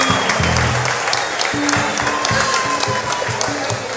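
Concert audience applause at a salsa show in Lima, Peru, a steady crowd of clapping hands at moderate loudness, with low musical notes from the stage sounding underneath.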